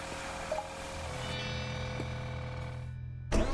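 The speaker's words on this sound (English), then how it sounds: "Nice big rumbly throaty engine sound there." A car engine in a dealership restoration game rumbles deep and steady at idle, loud and close, before it cuts out abruptly near the end.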